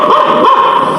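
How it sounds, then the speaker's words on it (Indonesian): A dog barks outside during a stage play, a loud, close, brief burst of barking and yelping that fills the moment. "Dan terdengar gonggongan anjing dari luar."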